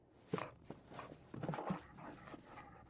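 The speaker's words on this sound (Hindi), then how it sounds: "मेरे भेड़िया कुत्ते को लाओ और दरवाजे पर रखो" A wolfdog makes faint, close whimpers and snuffling sounds in short uneven bursts over a quiet background, with no one speaking.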